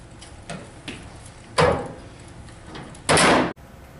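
The brush door on a PowerBoss Nautilus floor scrubber swings shut, with a few light clicks and rattles followed by two loud hard slams, the second abrupt and cut off short, with no talking.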